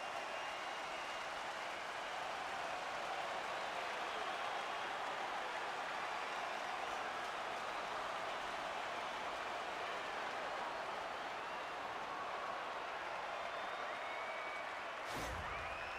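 An arena crowd at an NHL game between the Detroit Red Wings and Minnesota Wild roars after a Wild goal, a broad, even wash of cheering heard from a distance, with a brief thump near the end.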